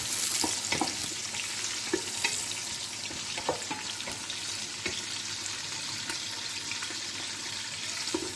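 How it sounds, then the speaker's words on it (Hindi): Onions frying in oil for degi aloo gosht, a steady broadband sizzle with scattered sharp pops and occasional stirring clicks, close and fairly loud, with no voices. "अब ये मैं प्याज डाल रही हूँ।"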